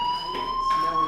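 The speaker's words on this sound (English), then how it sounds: "Hey, do you hear that fire alarm?" A school fire alarm in the video game Life is Strange sounds as a loud, steady electronic tone that holds without a break, with a voice talking over it.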